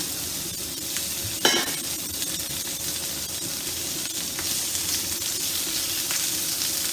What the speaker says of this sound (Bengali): এর মধ্যে আমি পটল আর আলুগুলো একসাথে ছেড়ে দেব, কারণ আমি খুব বেশি ভাজবো না।